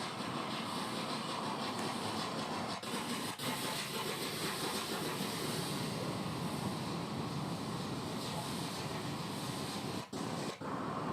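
The steam locomotive Tangmere working on the Waverley route, a dense continuous roar of engine and running gear sustained at steady loudness throughout, with a couple of brief dips.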